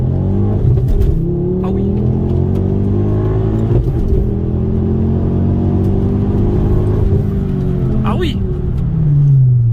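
Ford Focus RS with a stainless steel exhaust accelerating hard, its engine climbing through the revs in repeated surges with brief gear-change dips, loud and close from inside the car, while someone speaks briefly over it.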